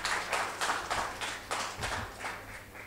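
An audience at a franchise get-together claps in a fairly faint, rhythmic wave of applause, a soft patter of many hands pulsing steadily for a few seconds.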